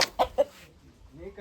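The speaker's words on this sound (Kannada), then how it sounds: "ಇವಾಗ ಈ ಕೋಳಿನ ಕೊಯ್ಬೇಕು" A chicken about to be butchered gives three quick, close clucks in succession, followed by a brief quiet stretch.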